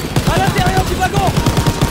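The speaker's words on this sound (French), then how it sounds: "C'est pas encore fini! Mitrailleuse!" Rapid machine gun fire in the Call of Duty WW2 video game, a loud, dense stream of evenly spaced shots lasting the whole moment, with a voice shouting over it.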